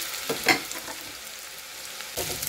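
Salted, squeezed potato shreds fry in a wok with a steady crackling sizzle, punctuated by a few louder splutters and stirring scrapes near the start and a burst of sizzle at the end.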